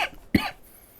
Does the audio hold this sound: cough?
yes